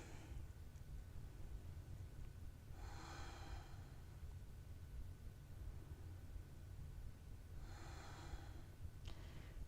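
Two slow, deliberate breaths drawn in and released while holding a low-back yoga stretch, close and soft, the first near the third second and the second near the eighth, over a steady quiet hiss and no talking.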